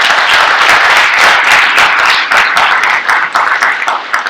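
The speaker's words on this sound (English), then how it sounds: "give them a round of applause" Loud, close applause for a panel of speakers at a live-streamed medical event, continuous dense clapping from a sizeable audience that holds steady for a few seconds.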